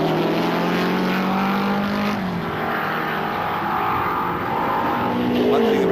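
A 1978 Mercedes Silver Arrow race car roars past with a loud, rising and falling engine note, running alone in a sustained drone with no talk.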